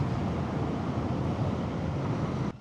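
Steady, loud wind roars over a motorcycle rider on a road toward Sakleshpur during a monsoon ride, a constant broadband rush that cuts off abruptly near the end.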